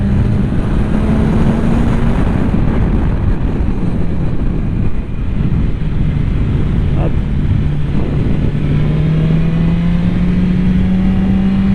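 A motorcycle on Continental ContiSportAttack 5 tires accelerates as the rider gives more throttle, with a steady engine drone rising in pitch under heavy wind rush throughout.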